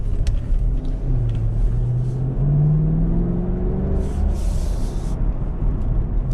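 A 2017 Chevrolet Camaro Convertible 2SS driving on a cold road, its engine rumbling low and rising in pitch as it accelerates, with road and tire noise and no talking.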